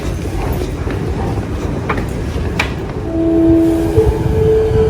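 A train arrives at a station platform in the Vancouver area, a loud rumble of wheels on rails with clicking and a rising screech of brakes toward the end.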